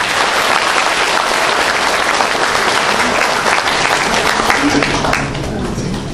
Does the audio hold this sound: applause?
yes